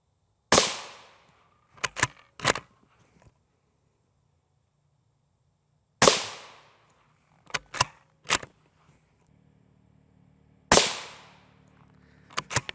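Three sharp, loud M855A1 rifle shots ring out about five seconds apart, striking a Hesco 3611C Level III body armor plate, each crack followed by a short decaying tail and a few quick metallic clicks and handling noises.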